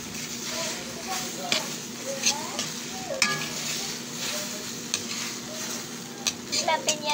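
Crumbled scrambled egg frying in a pan, with a steady hiss and sizzle as a utensil scrapes and breaks it up in uneven bursts, and a voice heard faintly underneath.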